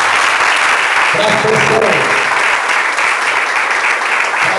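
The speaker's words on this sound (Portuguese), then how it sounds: "Aplaude o Senhor bem forte" Loud, sustained applause from a church congregation fills the whole stretch, with a preacher's voice speaking over the clapping.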